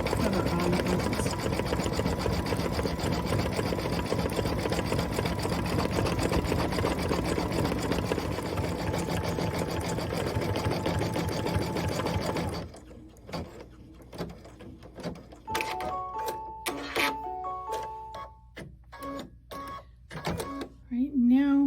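A sewing machine stitches a zigzag satin stitch on a Kimberbell Cup of Cheer sewing project, with a steady, loud, close whirring hum for about twelve seconds before it stops, followed by a person talking.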